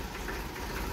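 A tractor engine runs steadily in a low, continuous idling rumble with a faint knocking texture, close and unbroken for the whole second, on the way to a Baisakhi Nagar Kirtan at Talhan Sahib gurdwara.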